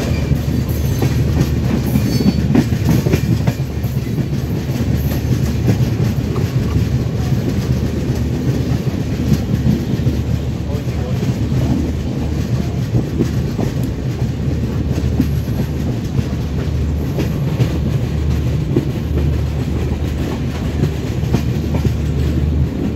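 The Kolkata–Guwahati Garib Rath Express rumbles into New Cooch Behar station, its wheels clacking rhythmically over rail joints under a steady, loud carriage roar, with faint squeals along the way.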